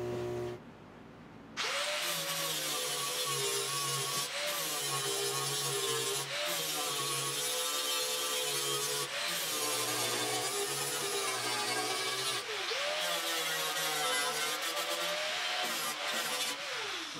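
A power grinder wears down welds on a 1972 Triumph GT6 windshield frame, making a loud, close metallic whine that rises in repeated strokes after a short quiet start. The pitch dips and recovers as pressure shifts, with no voices.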